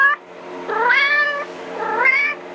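Kitten meows played from a phone: two drawn-out, wavering meows with a short gap between them, close and fairly loud, with no talking.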